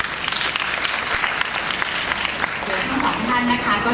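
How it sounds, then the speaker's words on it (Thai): An audience claps loudly at a Mercedes-Benz ML-Class launch event to welcome a speaker, with dense, sustained applause close by and a voice partly audible under it. "ขอเสียงปรบมือดังๆต้อนรับคุณคมกฤษนงสวัสดิ์ค่ะ"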